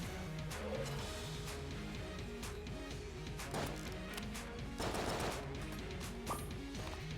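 Dual-wielded guns in Enter the Gungeon fire in rapid, steady streams of light shots over busy game music and effects, moderately loud and continuous, with no talk.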